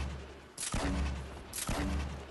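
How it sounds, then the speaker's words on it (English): Two sharp sniper rifle shots ring out in a Fortnite match, each a loud broadband crack with a short tail, about a second apart, and no talking. "one of them tried to snipe me"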